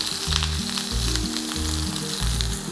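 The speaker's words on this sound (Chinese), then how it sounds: "等佢嗰啲火嗰啲熱力可以慢慢入去嗰塊豬扒度" A pork chop sizzles steadily in a hot pan, a constant close hiss of frying fat with low rhythmic thumps and tones from the kitchen underneath.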